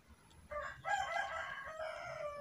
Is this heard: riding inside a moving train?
no